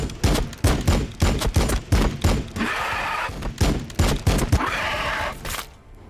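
Repeated gunshots and fusillade volleys from the Warhammer 40k Battle Sector video game, a Blood Angels campaign, pound out in a fast rhythmic string, broken by brief rushing swells between the shots, loud and close, with no talking.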